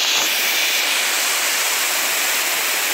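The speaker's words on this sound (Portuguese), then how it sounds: "A cachoeira é desse jeito aqui, ó." Waterfall at a tourist spot, giving a continuous dense rushing hiss of falling water, steady and close with no pauses.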